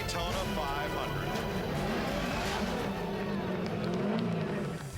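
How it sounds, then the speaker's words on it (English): Dale Earnhardt's NASCAR race car rolls into Daytona 500 victory lane, a loud, steady engine rumble blended with a dense roar of crowd noise and voices throughout. "Dale Earnhardt rolling into victory lane in the Daytona 500."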